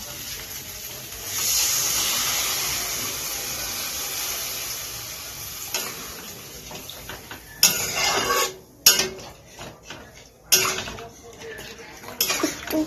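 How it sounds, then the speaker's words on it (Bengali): Water poured into a hot pan of sautéed spices and potatoes, giving a loud sustained hiss and steam rush that settles, followed by several sharp clanks of utensils against the pan. "কিছুক্ষণ কষানো হয়ে গেছে, এবার আমি জলটা দিয়ে দেবো।"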